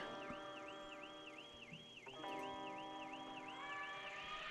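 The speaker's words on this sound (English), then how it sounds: "Car alarm's going off again." A car alarm sounds at a hunting site in Spain, its warbling up-and-down electronic wail repeating steadily and loudly, with a brief change in tone partway through, no voices.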